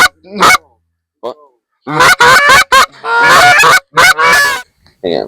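Wild geese honking during a goose hunt, a burst of loud, overlapping calls close by, then several more clustered honking bursts, with a brief spoken word early on.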